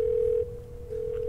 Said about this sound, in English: I think we're getting a phone call. Do you hear that?